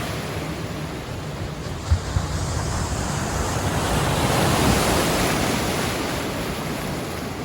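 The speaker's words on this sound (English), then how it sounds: "There's just something about crashing waves that is really so relaxing." Waves crash steadily on the Lake Superior shore near the Aerial Lift Bridge in Duluth, Minnesota, a broad continuous surf roar with wind noise that swells midway and never pauses.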